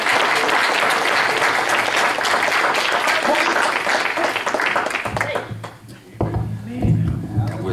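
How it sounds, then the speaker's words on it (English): Church congregation applauding in a loud, dense wash for about five seconds, then thinning out as a voice speaks over the fading claps. "Let's give them a round of applause and praise God."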